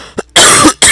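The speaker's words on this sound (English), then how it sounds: "Sorry, I've got this cough" A short throat sound, then two loud, harsh coughs close to the listener, the second cut off at the end.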